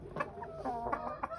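Chickens cluck close by in quick, overlapping bursts, fairly quiet, with no talking.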